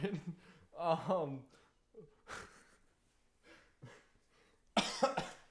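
A few short coughs and throaty breaths close to the mic, scattered among quiet gaps, with a final louder cough burst.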